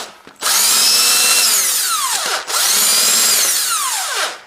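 Power tool spinning out camshaft cover bolts on a car engine, two loud close bursts of whirring drive each winding down with falling pitch, separated by a brief pause, no talking.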